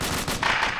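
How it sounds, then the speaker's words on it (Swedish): Gunfire in a military video game, a broadband crack of shots with a brighter burst midway, loud and close over a steady game background. "Vi tar skott."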